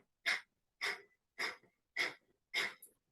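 Breath of fire yoga breathing during a bow pose in a class, five sharp, rhythmic forced exhales through the nose at roughly half-second intervals, close and fairly quiet with silence between them.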